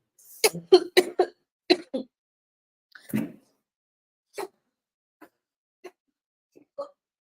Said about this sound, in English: the cough was just not stopping